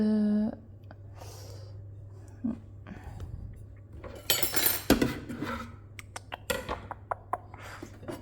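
Tomatillo and paste being mixed in a bowl for chicken verde, with scattered clinks and scrapes of a utensil against the dish, busier clattering in the middle and a few sharp taps toward the end.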